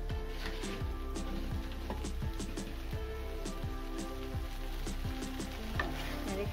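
Pointed gourd (potol) sizzles and crackles steadily in a hot pan over raised heat while a utensil scrapes and stirs in a regular rhythm, up close with no talking.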